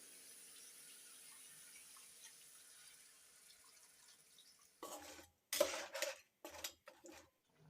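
Quiet background, then a series of splashy water pours into crab gravy in short bursts, close by, with clinks of a pot or utensil between them.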